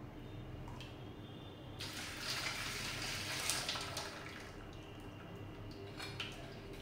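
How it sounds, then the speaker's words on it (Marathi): Warm jaggery water is poured and strained into a wide vessel, a soft, steady rush of liquid that swells for a couple of seconds before easing back. The sound is faint and close, with no voices. "गुळाचं, तर ते आपण ह्याच्यामध्ये काढून घेऊया"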